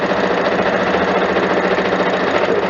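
A sewing machine runs steadily, stitching a fabric face mask with a fast continuous needle rhythm, loud and close throughout with no talking.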